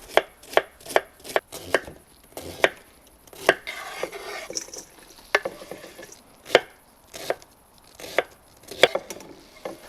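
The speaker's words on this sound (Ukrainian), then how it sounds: "Починаємо з нарізання капусти." Knife chopping cabbage on a board: sharp, irregular chops in quick bursts with short pauses, close and clear, no talking.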